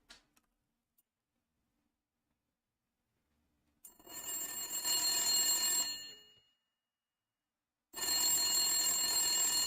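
A red telephone rings in two long bursts of a bright, rattling bell, loud and close, with a near-silent pause between them and a few faint clicks before the first ring.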